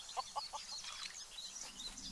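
Chickens in the Craft The World video game give a few short, quiet clucks in quick succession, followed by softer chirping game sounds.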